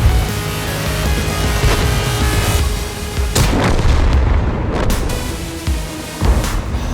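Tank cannons boom in an online tank battle game, heavy blasts and impacts landing several times over a constant engine rumble.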